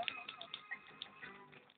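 A guy giving a few quick, light little hand claps close by at a lively night party, short sharp taps in an irregular run, faint and brief, with background noise.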